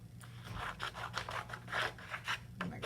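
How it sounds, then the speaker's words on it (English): Scissors snip through a sheet of green paper for a handmade playground model, a quick run of close, crisp cuts with a slight rustle of paper between strokes. "I'm going to cut some of this green paper off."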